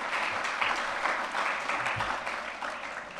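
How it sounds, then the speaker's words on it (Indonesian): An audience claps steadily after a day-long Christian seminar, a dense, even patter of many hands heard at moderate distance without talk. "Ya, mari kita beri aplaus dulu."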